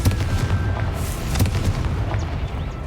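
Confringo explosion spell in Hogwarts Legacy, a rapid series of loud booming blasts and crackling impacts with a rumbling low-end tail, dense and close throughout.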